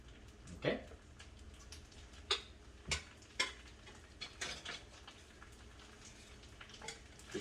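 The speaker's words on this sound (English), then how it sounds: "Give them a quick stir." Vegetables frying in a pan for steak fried rice, with a soft steady sizzle under scattered clinks and scrapes of a utensil stirring against the pan, fairly quiet and close.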